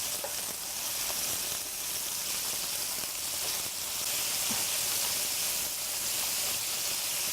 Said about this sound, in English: So our courgettes and our tomatoes, and of course our yellow capsicum, and we're going to fry them